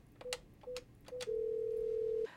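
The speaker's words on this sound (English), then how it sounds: "The phones are ringing" Office telephones ring with three short electronic beeps, each joined by a click, then a sustained steady tone lasting about a second. The sound is clear and close, with no talking.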